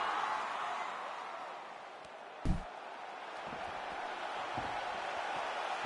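Steady roar of a capacity arena crowd at a UFC title fight in Shenzhen, China, a broad continuous wash of cheering with one brief sharp thud partway through.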